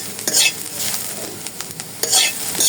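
Green chillies sizzle and crackle in a hot frying pan as a spatula stirs them, with steady close frying hiss and several sharper scraping bursts of stirring.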